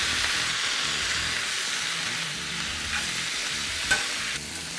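Kangkong leaves stir-fry in a hot pan with rice vinegar and soy sauce, giving a steady close sizzle and hiss throughout, with a brief clatter near the end and no talking.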